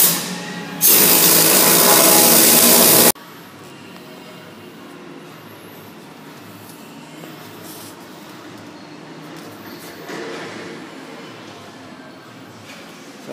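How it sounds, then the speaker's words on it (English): A Lincoln welder welding steel angle plates, a loud, dense crackling hiss that runs steadily for about two seconds and then cuts off abruptly into quiet workshop background. "That's our Lincoln welder,"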